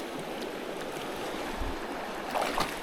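River rapids rush steadily close by, a broad continuous wash of flowing water with small splashes rising briefly near the end.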